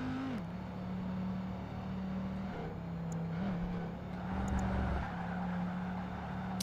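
Noble race car engine in Project Gotham Racing 2, a steady close drone holding one pitch with a brief dip near the start, briefly skidding and shifting, with no talk.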